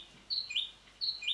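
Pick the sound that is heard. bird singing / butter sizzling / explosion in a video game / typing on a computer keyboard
bird singing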